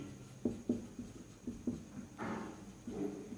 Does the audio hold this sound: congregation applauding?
no